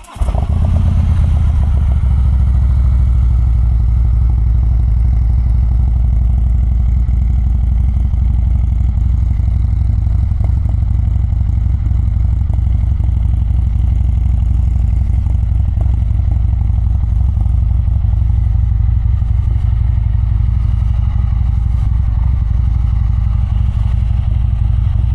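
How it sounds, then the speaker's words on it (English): A Harley-Davidson bagger motorcycle fires up from cold and settles into a loud, steady, lumpy idle with a mechanical clatter, running continuously near at hand with no speech. "So let's give you a nice cold start, and then we'll take it for a spin and give you my thoughts."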